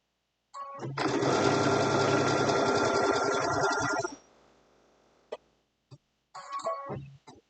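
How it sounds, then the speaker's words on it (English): Sewing an Easter basket, the machine runs a locking stitch in one loud, steady whirring run of about three seconds that stops sharply. After it comes a faint mechanical hum and a few short clicks and knocks. "So I'm going to line up with my stitching, do a locking stitch."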